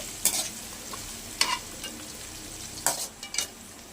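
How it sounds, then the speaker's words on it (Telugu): Onions with green chillies fried in a pan for street-style egg noodles, with soft sizzling under several sharp scrapes of a spatula stirring at intervals; no talking. "ఇలా నీట్గా ఫ్రై చేసుకుంటూ ఉండాలి"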